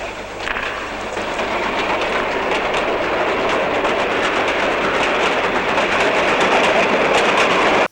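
A toy train set running on its tracks in a film gives a continuous rolling rumble with rapid clickety-clack wheel rhythm, loud and steady for the whole stretch with no voices.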